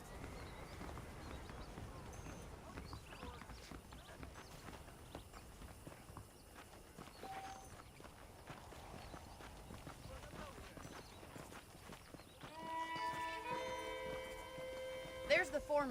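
Horse hooves clip-clopping in the video game Red Dead Redemption, a steady rhythmic walking pace under talk, followed near the end by a burst of louder music-like tones.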